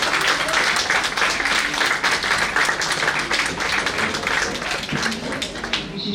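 Sustained crowd applause at a stage event as a guest takes their place, many hands clapping steadily at close range, with a faint voice now and then beneath it.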